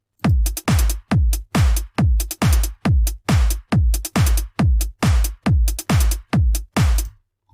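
Trance drum pattern programmed in FL Studio: a loud, steady four-on-the-floor kick with a clap on beats two and four and a bright hi-hat on every offbeat, repeating evenly for about fifteen beats with no voices.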